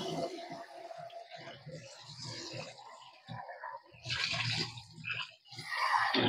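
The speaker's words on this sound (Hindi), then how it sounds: "थोड़ा सा पानी इसमें से कम कर लेते हैं और पानी चालू कर देते हैं इसमें।" Tap water runs over boiled eggs in a pot, a close, steady splashing and gurgling stream that swells louder toward the end.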